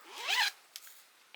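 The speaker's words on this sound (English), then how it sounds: "I put that on the zipper," A zipper being handled while a stitch marker is clipped onto it: one quick close zip pull that rises in pitch over about half a second, followed by a couple of faint clicks and small handling sounds.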